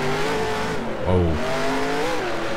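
Race car engine in a racing video game revving hard as the car gets loose and slides onto the grass under throttle, a steady loud engine drone with a brief surge in pitch, no voices.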